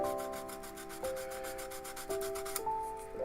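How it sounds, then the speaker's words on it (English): Steady rubbing strokes of sandpaper against the edges of a small wooden model kit part, close and continuous with faint tonal squeaks, no talking. "all I got to do is sand down the edges on this"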